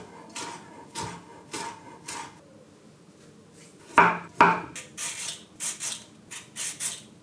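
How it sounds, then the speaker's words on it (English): A knife finely slicing vegetables for a slaw on a cutting board: a series of crisp, close chopping knocks, slow and spaced at first, then quicker bursts of sharper cuts. "since I am making a slaw, I'm going to cut this very finely"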